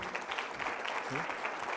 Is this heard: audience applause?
yes